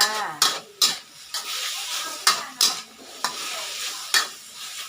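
Kale with tomato stir-fried in a hot pan: steady sizzle under sharp, regular scraping strokes of a utensil, about two per second, close and loud, with no voice.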